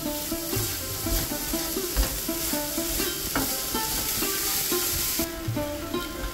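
Jaggery stuffing for kudumulu bubbles and cooks in ghee in a pan, with a steady broadband sizzle and repeated scraping stir strokes from a utensil throughout, fairly close and continuous.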